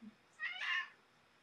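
A pet cat gives one short, fairly quiet meow, alone in an otherwise still indoor room.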